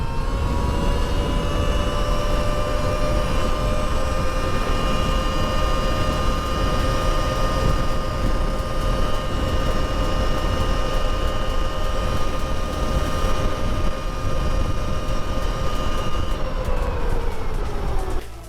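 Surron Ultra Bee electric dirt bike at full throttle with turbo engaged, a loud sustained electric motor whine holding a steady high pitch under heavy wind rush for about seventeen seconds before the tone drops at the end.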